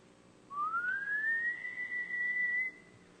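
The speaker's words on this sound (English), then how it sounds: "So there's what's called a glide or a frequency sweep. So you see that the sound goes from lower to higher frequencies." A single clean whistle glides smoothly upward from a low to a higher pitch, then holds steady for a couple of seconds before stopping, heard alone and fairly close in a quiet room.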